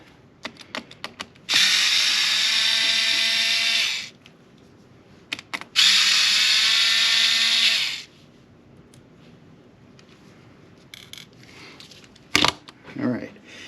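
A powered screwdriver backs out black screws from a MacBook Air display in two loud, sustained whirring bursts of a few seconds each, close up, with small clicks and handling noises between them and a voice talking.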